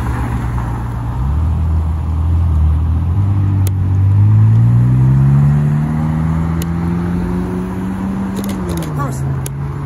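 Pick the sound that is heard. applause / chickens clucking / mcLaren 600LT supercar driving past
mcLaren 600LT supercar driving past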